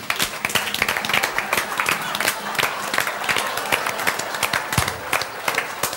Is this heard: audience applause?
yes